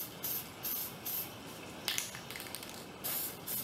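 A yellow tint mist coat is sprayed onto fog lights in several short, close hissing bursts with brief pauses between them, plus a few lighter spritzes, with no talking.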